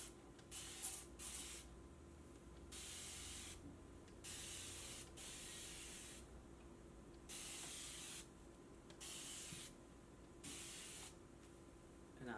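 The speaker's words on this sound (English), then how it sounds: "spray water on it" A spray bottle mists water onto an old wig in a series of about six hissing bursts, each lasting roughly a second with short pauses between, close and quiet against a faint background hum.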